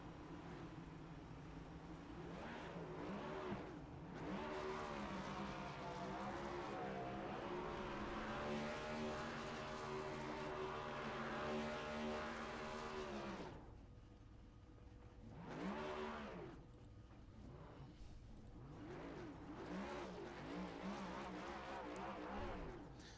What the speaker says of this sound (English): as we watch him finish up the burnouts